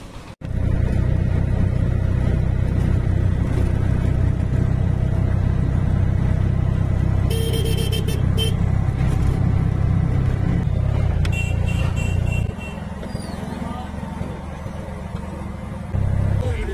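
A ride in an auto rickshaw through town, its small motor engine rumbling steadily and loudly throughout with brief rattles and clatter, then easing to a lower drone near the end.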